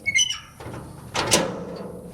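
An old church door in an abandoned Lebanese mountain village swings open with a drawn-out creak and a sharp high squeal of its hinges, heard close and fairly loud after a few brief knocks and rattles.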